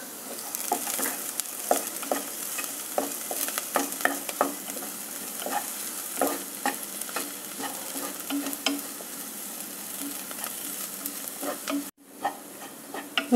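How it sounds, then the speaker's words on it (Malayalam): Small chopped pieces of ginger and split garlic cloves fry in a pan for a white chickpea masala curry, giving a steady close sizzle broken by frequent scraping stirs, with a short pause near the end. "ഇഞ്ചിയും വെളുത്തുള്ളിയും ഏകദേശം മൂത്തു തുടങ്ങി."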